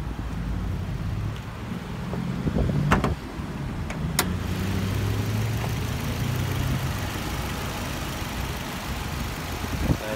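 A small 1.4 litre petrol engine in a Suzuki Swift idles steadily at close range, a low continuous hum with a few brief clicks and knocks, no talking.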